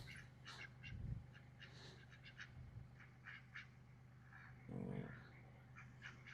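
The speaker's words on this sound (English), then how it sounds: "Hey, ducks and chickens." Ducks and chickens in a backyard make scattered quacks and clucks. The calls are quiet and somewhat distant, over a low steady hum.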